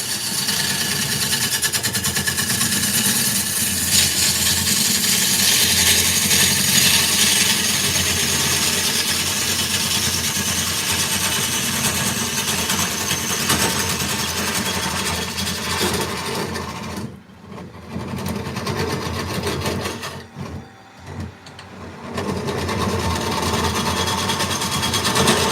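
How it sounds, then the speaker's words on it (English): A round carbide tool cutting an oak burl spinning on a lathe, a loud continuous droning hum with rough cutting noise that dips briefly twice near the end before resuming. "Let's use the carbide for a minute here and just see how that goes."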